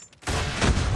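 Dense gunfire in the video game Call of Duty, a loud burst of overlapping shots and booms starting abruptly after a brief quiet moment and continuing without a break.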